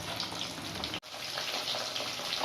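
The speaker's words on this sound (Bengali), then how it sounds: "কই মাছগুলো তেলে ভাজা হচ্ছে" Steady, dense sizzling of koi fish deep-frying in hot oil, continuous and fairly close, with a brief dropout partway through.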